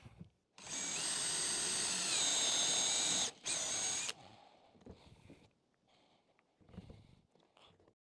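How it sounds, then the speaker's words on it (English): A portable drill press cutting wood plugs whines loudly and steadily for several seconds, briefly dips, then stops, leaving quieter clattering and handling noises. "we're going to use this portable drill press that Miles Craft makes"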